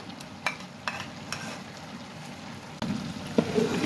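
Thick gajar ka halwa of carrots and ghee being stirred in a large pot, with a spoon scraping through in repeated strokes over a steady soft sizzle that grows louder toward the end.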